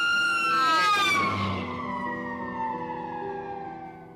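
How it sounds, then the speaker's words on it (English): An ambulance siren racing past, its wailing tones sliding sharply downward in pitch as it goes by, loud at first and then fading as it moves away, with no voices. "It's similar to the way a siren distorts as an ambulance races past us."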